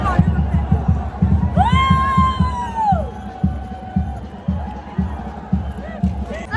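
A dense, noisy crowd of devotees at the Ekvira Chaitra palkhi festival, with rhythmic drumming pounding underneath and a rising whistle-like call cutting through, loud and close.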